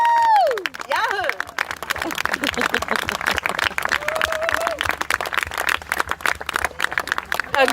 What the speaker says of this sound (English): Lots of applause as you seal your commitment with a kiss.